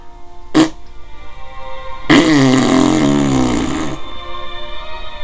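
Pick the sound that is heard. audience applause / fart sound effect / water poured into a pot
fart sound effect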